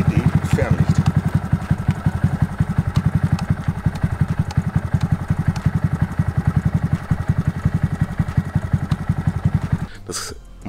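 A Honda MSX 125 Grom motorcycle runs with a close, steady, rapid single-cylinder idle thump that continues for about ten seconds, then cuts off with a brief clatter at the end.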